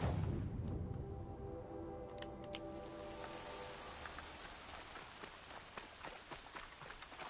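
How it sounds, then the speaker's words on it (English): Rain in the video game Horizon Zero Dawn patters steadily on surfaces, a soft continuous hiss with scattered sharper drops, after a brief low rumble and tonal game sound at the start. "More rain. My boots will get damp."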